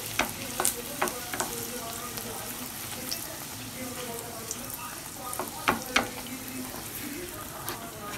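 Kachori deep frying in oil, a dense continuous bubbling sizzle with sharp clicks and scrapes of a utensil against the pan scattered throughout, close and moderately loud.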